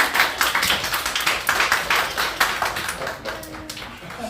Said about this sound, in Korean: 자, 우리 수고했다고 박수 한번 할까요?